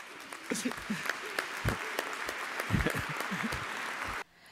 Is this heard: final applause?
yes